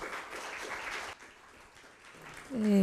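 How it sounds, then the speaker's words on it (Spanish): An audience at an evening talk on gender parity and alternation in candidate lists claps warmly for a speaker. The applause is dense for about a second, then quickly fades, and a voice begins at the close. "La recibimos con un fuerte y caluroso aplauso."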